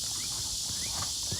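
Soft, irregular hoof thuds from a horse moving during a dressage lesson in an arena, faint and fairly distant against a steady hiss, with no talking.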